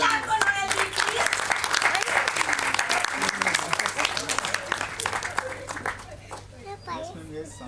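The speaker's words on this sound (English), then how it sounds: "Big clap for Noeli, please" A room of children and adults claps for a young performer named Noeli at a school stage show, with dense, steady applause that thins out toward the end under some child chatter.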